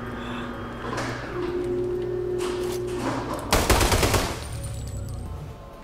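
Automatic gunfire with heavy recoil in the video game Sniper Ghost Warrior 3 rattles out over a low game ambience, building to a dense, loud burst of shots near the end.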